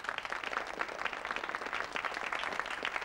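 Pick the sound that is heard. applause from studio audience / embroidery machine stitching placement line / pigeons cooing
applause from studio audience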